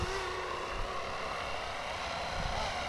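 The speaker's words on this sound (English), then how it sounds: "I mean, look at that helicopter." A Flywing FW450 Airwolf RC helicopter flies nearby, its rotor and motor making a continuous dense whirring drone that stays steady throughout.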